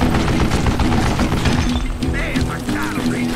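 Rapid gunfire from a mounted gun in the Western shooter Call of Juarez: Gunslinger, a dense, loud, continuous rattle of shots with voices and game sounds mixed in throughout.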